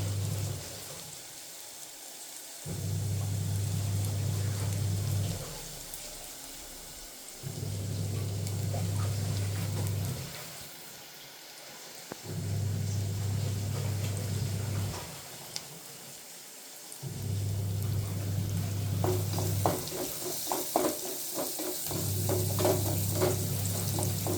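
Chicken frying in a pan, a steady close sizzle and crackle throughout, broken up by a regular low hum that cuts in and out in long stretches, no one talking.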